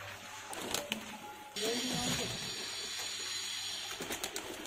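Gardaan pigeons coo softly in an outdoor loft, low repeated calls mixed with a steady hiss of background noise and a few faint clicks and rustles, with a voice murmuring faintly at times.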